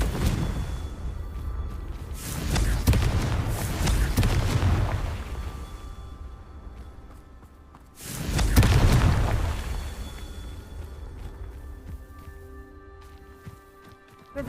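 Two heavy booming blasts of the Confringo fire spell in Hogwarts Legacy, each swelling into a long rumbling explosion that fades over several seconds.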